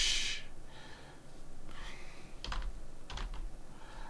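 Quick bursts of clicks from typing on a computer keyboard while entering an Excel function, a few close, quiet keystroke clusters separated by breaths and pauses.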